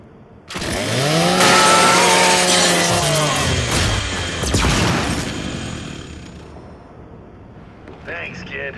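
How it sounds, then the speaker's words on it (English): A Lancer rifle's chainsaw bayonet revs and grinds through a robotic custodial unit in the Gears 5 video game, a loud, sustained whirring buzz for several seconds that gradually fades, followed by faint clatter. "do me a favor and scrap that custodial unit for me. Just use your Lancer's chainsaw"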